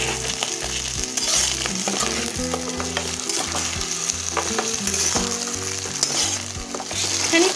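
Onions and shrimp fry in a pan with a loud, continuous sizzle, and a utensil stirs them in frequent scraping strokes. Soft music plays in the background and no one speaks.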